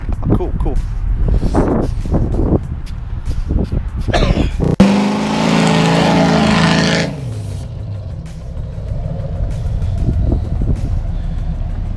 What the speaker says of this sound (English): Yeah, it's a loudmouth exhaust.